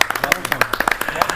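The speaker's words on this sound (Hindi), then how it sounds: "एक बार फिर जोरदार तालियां।" Audience claps after a poem recital at an Independence Day event, a short burst of distinct, close individual claps in an uneven rhythm.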